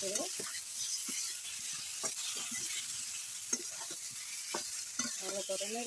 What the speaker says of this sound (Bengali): এবার ভালো করে নেড়ে